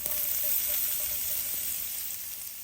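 Sliced onions hitting a hot pan for saucy sausage biscuits, a close, steady hiss of sizzling oil that slowly fades a little, with a faint scrape of stirring.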